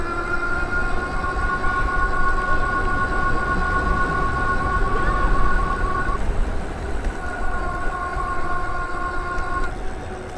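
A Velotric Discover 2 commuter e-bike motor at full throttle gives a steady high electric whine with a strong tonal hum, loud and close, briefly dipping mid-way before resuming over road rumble.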